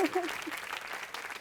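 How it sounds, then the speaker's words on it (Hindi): A brief voice, then faint clapping from a group of people that carries on steadily at low volume. "तालियां तालियां"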